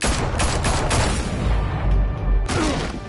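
Rapid bursts of gunfire from Batman: The Telltale Series, dense overlapping shots and booms filling the whole stretch loudly, with a brief lull before another volley.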